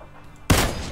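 A single loud gunshot from a weapon in the battle royale game PUBG cracks out abruptly after near silence, then rings on with a sustained decaying tail.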